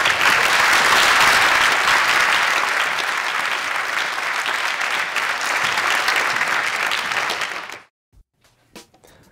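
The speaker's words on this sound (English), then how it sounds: "Please give them another round of applause." Sustained, dense applause from a large audience at a community college scholarship award ceremony, loud and steady for about eight seconds before cutting off to near silence.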